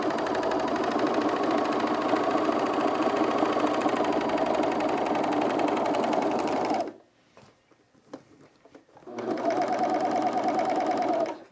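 A sewing machine stitches picot elastic onto underwear in a steady, fast whirring run, stops for a couple of seconds of near silence with small handling noises, then resumes stitching, close and clear.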